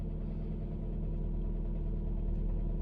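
A car engine with a lingering fault idles continuously, giving a steady, close low rumble with no break and no voices.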